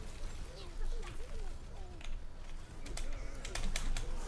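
Rapid keyboard clicking comes from a gamer playing Overwatch, with fast irregular taps running throughout under a Polish-speaking player's voice and game sounds.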